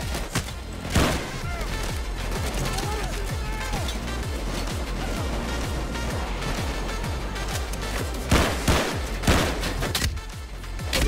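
Rapid gunfire in the heist shooter Payday 2, a steady stream of close, repeated shots with sharper bursts toward the end, and someone talking over it.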